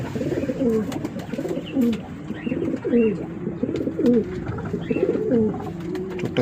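Many pigeons at a pigeon sale in Mallickpara, Ankurhati, give repeated rolling coos that rise and fall in clear pulses. The calls come from several nearby birds and overlap in a steady rhythm, with no talk over them.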